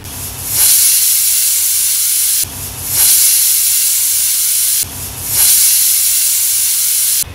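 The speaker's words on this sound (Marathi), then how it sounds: "तर इथे कुकरच्या 3 शिट्ट्या झाल्या." A pressure cooker cooking masoor dal khichdi lets out three loud, long steam whistles, each a sustained hiss of about two seconds, separated by brief dips, with no talking.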